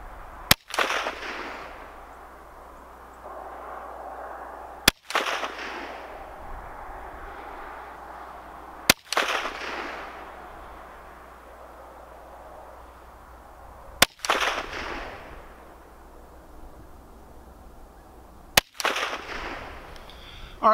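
Rossi RS22M semi-automatic .22 Magnum rifle fires five sharp, loud shots spaced roughly four seconds apart, each crack followed by a brief echoing decay in an outdoor setting.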